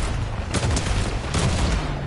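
Rapid gunfire in Fortnite aimed at a tree, a loud dense burst of overlapping shots over about two seconds with a couple of sharper cracks standing out.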